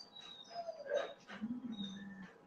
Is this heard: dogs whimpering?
yes